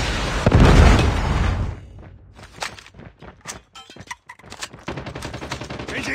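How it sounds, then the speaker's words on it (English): COD Mobile battle with a Predator missile strike, a loud booming explosion that fades into a run of sharp gunshots, bursts and scattered pops. "Predator missile inbound."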